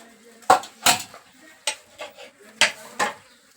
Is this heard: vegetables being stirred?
yes